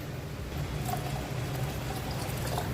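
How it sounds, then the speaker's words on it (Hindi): A double measure of water is poured into moong dal seasoned with salt, a cardamom pod and a piece of cinnamon, making a continuous, even rush of liquid close by. "डबल पानी, यानी कि दुगना पानी ऐड करके अच्छी तरह से मिक्स कर देते हैं"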